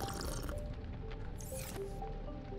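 Eating and drinking in the underwater survival game Subnautica Below Zero, wet squishy gulps and dripping liquid sounds over a low humming ambient backdrop.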